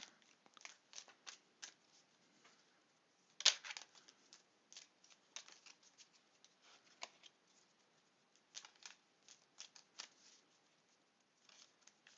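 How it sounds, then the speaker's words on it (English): Tarot cards are shuffled and laid down on a surface in soft, scattered flicks and taps, one sharper slap in the middle, quiet and close with near silence between. "we'll put some of these cards down"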